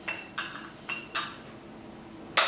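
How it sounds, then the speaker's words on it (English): A margarita glass rim is rolled in salt, giving a series of light glassy clinks and gritty scrapes in an irregular rhythm, close and moderately quiet. "And then we're just going to roll it a little bit in the salt."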